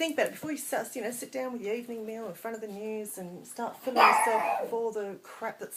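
A dog barks and yips intermittently in an indoor room, partly masked by someone talking steadily over it.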